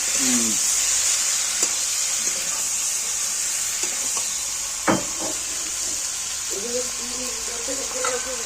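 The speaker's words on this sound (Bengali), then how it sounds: "পোস্তটা একটু ভেজে নিলাম।" Poppy seeds toast in a pan with a steady, bright frying hiss and a few light scraping clicks, while a voice talks quietly underneath.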